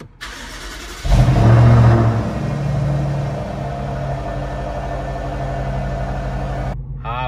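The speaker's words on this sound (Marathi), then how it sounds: "आवाज मी मिस करणार आहे, कारण ह्याला मी एक्झॉस्ट लावलेला आहे गाडीला, प्लस याचं इंजिन पण ट्यून केलेलं आहे." BMW X5 M Sport with a tuned engine and aftermarket exhaust starting up, a loud rev burst at ignition settling into a deep, rumbling idle, with a brief spoken word.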